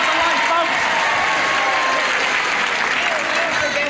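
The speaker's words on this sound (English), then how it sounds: "now they're applauding" A television game show studio audience from 1973 applauds loudly and continuously, a dense wash of clapping that holds steady throughout.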